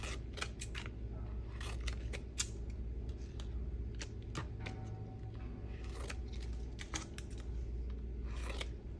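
Cut vinyl pieces for a DIY Barbie skirt design being bent and peeled off by hand, giving repeated short crinkly tearing and crackling sounds over a steady low background hum, with no talking.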